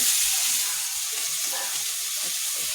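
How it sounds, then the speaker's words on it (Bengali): Tengra fish and potatoes being sautéed in a pan, giving a steady, close hissing sizzle with soft stirring scrapes underneath. "ট্যাংরা মাছ এবং আলুগুলো ভালো করে আমি কষিয়ে নিচ্ছি"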